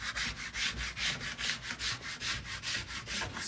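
A plastic ski scraper is drawn along a waxed ski base in steady, rhythmic strokes, about a dozen close, rasping scrapes repeating evenly with no talking.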